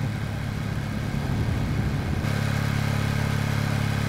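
A Ducati Streetfighter 2025 motorcycle is ridden under steady engine drone with wind noise. Partway through, the engine note settles into a smoother, even hum, loud and close throughout.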